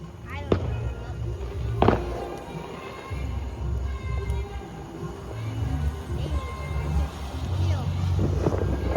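Cheap store-bought consumer fireworks from Lowe's going off outdoors, with sharp bangs near the start and around two seconds, over steady wind-like rumble and crackle, with voices talking in the background.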